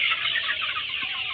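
A flock of broiler chickens about 48 days old clucks on a poultry farm. The sound is a steady, fairly quiet chorus of overlapping clucks with no talking.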